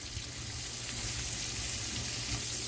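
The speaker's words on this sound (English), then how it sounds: "the onions go in the pot or in the pan. Stir them around a little bit" Onions sizzle in a hot pan and are stirred around, a steady close frying hiss with faint scraping that stays even throughout, with no voices.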